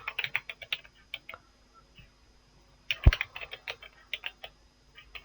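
Quick tapping on a computer keyboard as a skill name is typed, clusters of light clicks in bursts with short pauses and one sharper key strike near the middle, close and quiet.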